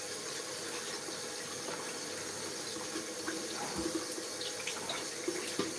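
Tap water running steadily into a kitchen sink while something is rinsed, a continuous soft hiss with slight splashing changes, fairly faint and without talking.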